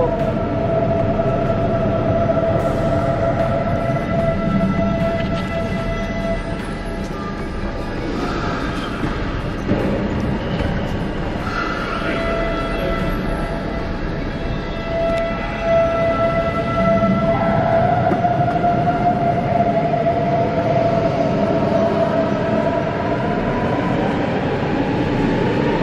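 A train running past on the rails, a loud and continuous rumble with squealing, whining tones and clanks that rise and fall over about half a minute.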